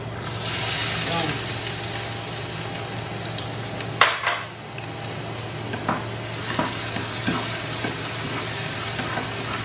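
Oil sizzling steadily in a hot pan while ingredients for arroz caldo are stirred and browned, a constant crackling hiss with occasional scraping clatters of the utensil, heard up close beneath a voice speaking.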